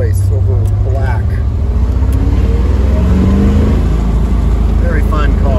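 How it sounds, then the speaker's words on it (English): A turquoise 1973 Corvette C3 convertible with a four-speed manual drones steadily on a hot summer test drive, its deep engine note loud and constant beneath someone talking. "We're doing a quick test drive on our 73 Corvette C3 4-speed convertible, turquoise over black."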